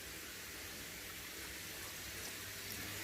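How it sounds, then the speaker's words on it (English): Water sprays from a hose fitted with a spray bar into an aquarium tank, a steady soft hiss of falling water that stays even and faint throughout with no voices. "I've got a hose with a spray bar on the end, so it distributes the water."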